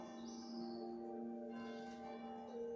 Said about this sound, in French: j'ai ouvert la fenêtre, donc vous entendez les cloches.